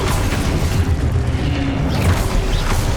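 An explosive Confringo spell blast in Hogwarts Legacy, a loud dense rumbling boom that stays heavy and continuous for about three seconds, with no voice over it.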